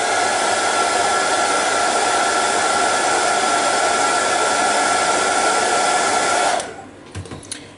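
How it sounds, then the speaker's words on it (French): A hair dryer blows loudly and steadily for several seconds drying oil paint on a Star Wars model, then shuts off, leaving a few faint clicks and handling noises. "je viens la sécher avec le sèche-cheveux tout simplement"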